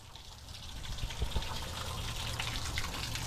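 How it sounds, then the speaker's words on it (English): A water hose flushing through the water pump housing into the engine block of a 2006 Dodge Ram 1500 with a 4.7L engine during a radiator replacement: a steady, close gush of flowing water. "So I have my water hose going in through the end feed or the water pump housing"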